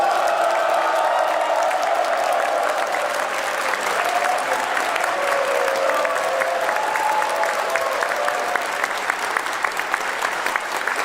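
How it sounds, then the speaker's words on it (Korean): A large crowd of Korean expatriates in China applauds loudly to welcome President Lee Jae-myung and his wife, with dense, sustained clapping filling the hall without a break. "대통령 네 분의 환영을 큰 박수로, 큰 한으로 맞이해 주시기 바랍니다"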